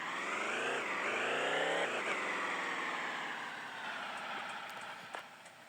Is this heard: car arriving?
yes